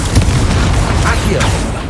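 A Confringo blasting spell goes off in the video game Hogwarts Legacy, a heavy, rumbling explosion with booming low end that fills the whole moment, loud and close, with a voice faintly mixed in.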